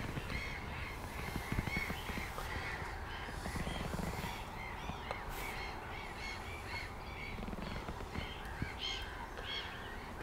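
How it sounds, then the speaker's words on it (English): Gulls call noisily in the background at a nature reserve lake, a busy chorus of harsh cries and squawks, faint and distant, continuing throughout with no talking. "you can probably hear in the background a lot of gulls out there getting quite noisy"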